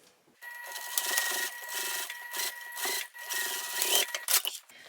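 A sewing machine stitches straight across a Petunia Pouch in quick, even runs, with a few short pauses and restarts. The mechanical whirring sounds close and steady.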